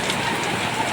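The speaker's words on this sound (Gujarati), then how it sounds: "હું તમને દેખાડું કેવો વરસાદ આવે છે." Heavy unseasonal rain falling outdoors, a dense continuous hiss of drops on surfaces, steady and enveloping with no voices.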